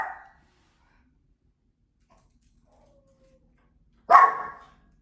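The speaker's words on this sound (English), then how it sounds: "There's a dog that moved in upstairs." A dog in the apartment upstairs barks once near the end, a single muffled bark coming through the ceiling after a brief faint yelp at the start and quiet in between.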